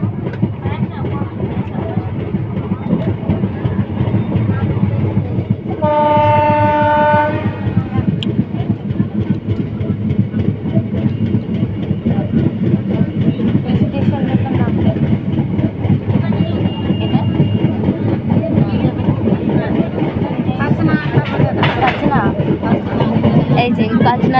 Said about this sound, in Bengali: এই যে কাচনা থেকে এখন রওনা দিল ট্রেন আমাদের।